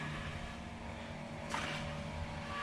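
A camera drone flies overhead, giving a steady, even buzzing whir that holds at moderate loudness throughout, with no talking.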